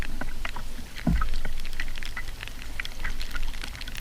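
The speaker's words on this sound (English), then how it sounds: "Here comes the rain." Rain patters on a lake around a canoe in scattered, irregular drops. One dull paddle knock comes near the start, with a soft wash of water and wind beneath.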